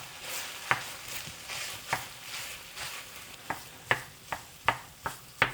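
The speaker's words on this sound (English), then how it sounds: "I'm just breaking up the big chunks of rice" Pork adobo fried rice with garlic being stirred and broken up in a hot pan, with a steady sizzle under repeated sharp scrapes and taps of a utensil against the pan that grow more frequent.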